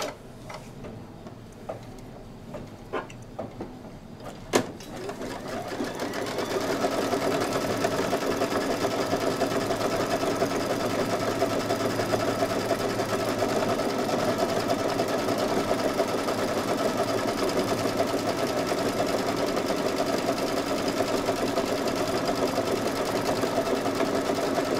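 An embroidery machine tacks down fabric, starting with a few scattered clicks and then a steady, fast, even mechanical stitching hum that runs continuously for about twenty seconds, close and moderately loud.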